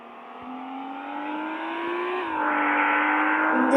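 A Bugatti engine in a video game revving up in a smooth, rising whine that climbs steadily in pitch and loudness across a few seconds, with a gear-like shift partway through and no speech.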